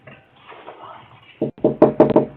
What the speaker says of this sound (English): They knocked multiple times to see if the homeowner would let them in.